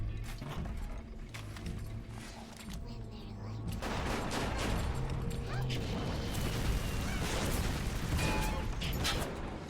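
Rapid gunfire and mechanical clatter of combat in Bioshock, dense bursts rising and continuing under a speaking voice.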